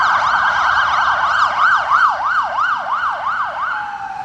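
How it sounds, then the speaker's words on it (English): An ambulance siren wails through a city street near Hyde Park, Sydney, loud and close, its rapid rising-and-falling yelp repeating about a dozen times over steady traffic noise. "So there goes an ambulance."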